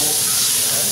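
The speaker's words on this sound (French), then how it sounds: "le roux a atteint la consistance et la couleur désirée, donc je vais ajouter toute la garniture en une fois" Vegetables hit hot roux for a Cajun chicken and sausage gumbo, giving a loud, steady, dense sizzle and hiss that stays constant and close throughout.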